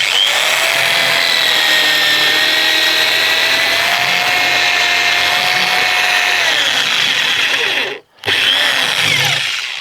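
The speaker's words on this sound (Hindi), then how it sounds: "और इस ड्रिल मशीन से सीधा इस स्क्रू के अंदर" A cordless power drill whines loud and steady as it drives a screw at a slant into a camper van side panel, pitch holding flat, then cuts out briefly and starts up again.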